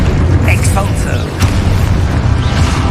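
A deep boom from the Expulso explosion spell in Hogwarts Legacy rumbles low, with bursts and crackling debris around it and a sharp crack partway through.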